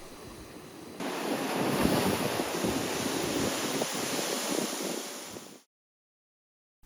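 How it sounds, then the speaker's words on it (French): Ocean waves surge against a rocky cliff on Réunion Island, where the water is forced up like a geyser: a loud, sustained rushing roar with wind buffeting, starting abruptly and cutting off into silence, with no talk. "La structure de la falaise renvoie l'eau des vagues qui s'engouffrent comme un véritable geyser."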